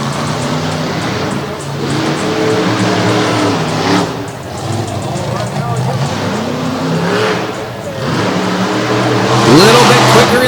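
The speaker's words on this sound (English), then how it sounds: "Now we move on to round 1 of monster truck racing." Monster trucks racing around an arena course at a Monsters of Destruction event in Madison, Wisconsin, their engines roaring and revving loud and steady under an announcer's commentary.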